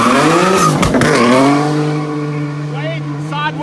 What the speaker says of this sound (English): getting it a bit lit up in his drifting car